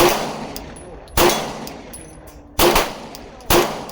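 Three loud, sharp Glock 19X pistol shots fired at an outdoor range, spaced unevenly about a second apart, each with a short ringing decay.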